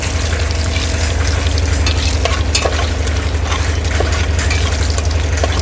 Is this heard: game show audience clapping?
no